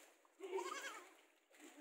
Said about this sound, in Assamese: বাকী ইয়াতে দেখাই আছোঁ ছাগলীবিলাকক